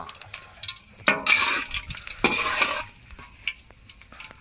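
A bay leaf dropped into hot oil in a pan gives a few close bursts of crackling sizzle, separated by quieter moments, with no voices.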